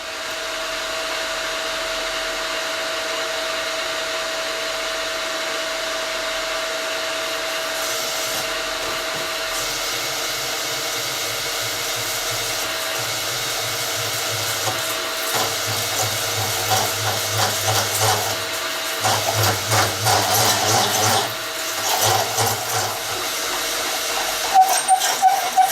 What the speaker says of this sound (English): I have some footage of me trepanning the holes on a milling machine with the boring head